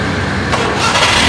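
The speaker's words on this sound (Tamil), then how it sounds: "பாருங்க, வண்டி ஸ்டார்ட் பண்ணி" A cheap used car priced at 39,000 rupees has its engine cranked and started, a loud close rough mechanical churn that swells briefly as it catches.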